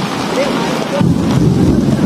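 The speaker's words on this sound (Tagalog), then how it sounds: "Ayan guys, sobrang lakas ng agos doon." A strong river current rushes loudly and continuously nearby, a dense roaring wash of water that thickens and grows heavier partway through.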